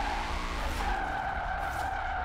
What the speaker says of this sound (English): If we drift it mildly with a little less angle, this car handles super amazing.